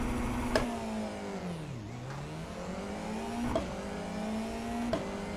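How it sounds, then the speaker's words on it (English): A race car in the iRacing sim making a standing-start launch: the engine revs high, dips and bogs as the clutch engages, then climbs again through sharp gear changes, loud and close with no voices. "Now I'm going to try a normal standing start launch"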